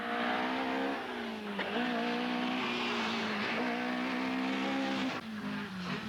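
A Talbot Sunbeam Lotus rally car drives at speed in a 21.5-hour rally event, its engine note rising and falling through gear changes, loud and close with steady revving.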